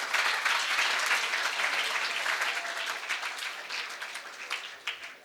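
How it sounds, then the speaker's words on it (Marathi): Audience applause for a person in the police department, cited during a speech, a dense, steady clatter of many hands clapping that holds loud at first and then slowly thins and fades toward the end. "त्यांच्यासाठी जोरदार टाळ्या"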